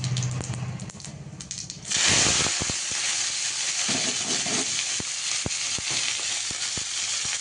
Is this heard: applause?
no